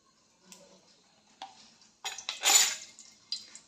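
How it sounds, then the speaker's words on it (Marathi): Ghee spooned into a hot kadhai on a gas stove, heard as a few soft clinks and scrapes followed by a brief sizzling hiss, close and quiet with gaps in between. "मी गॅसवर कढई गरम करायला ठेवलेलं आहे त्यामध्ये आता तूप घालते"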